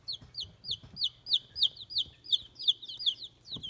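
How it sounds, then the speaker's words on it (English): Young Australorp, white leghorn and Americana pullets cluck in a quick, steady series of short high calls, close and clear over a faint low background. "I got 3 Australorp pullets, and this is an Australorp right here"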